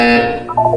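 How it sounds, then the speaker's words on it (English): A short, loud electronic buzzer from the video game Portal 2, a harsh steady tone that sounds once and shifts in pitch near its end. "When you hear the buzzer, look down at the floor."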